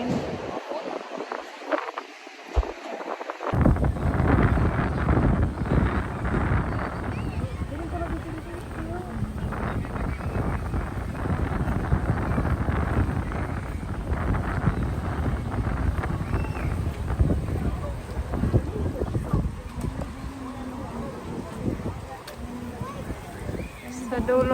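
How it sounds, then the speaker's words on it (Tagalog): Strong wind at the Jeddah seaside corniche buffets the microphone in loud, continuous gusty rumbles after a brief quiet start, with people talking over it. "Ay, grabe ang hangin."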